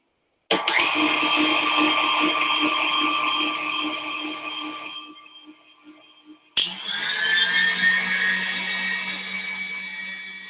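An electric mixer whips meringue for an Australian pavlova with a steady, high whirring drone. It fades and stops briefly, then starts again just as strongly.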